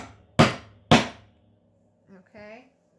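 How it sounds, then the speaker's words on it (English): A hammer strikes an eyelet setter twice in quick succession, two sharp, loud near raps about half a second apart, followed by a brief voice. "Three hard hammers. Pretty hard hammers."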